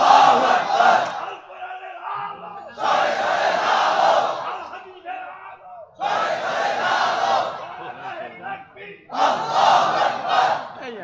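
A crowd chanting the takbir, Allahu Akbar, in loud unison at a gathering, four long swelling chants separated by brief pauses, close and forceful.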